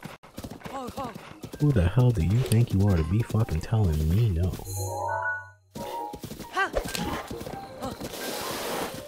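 Horse hooves clip-clopping and a brief whinny from a horse in Zelda: Breath of the Wild, with game music and someone talking loudly over most of it.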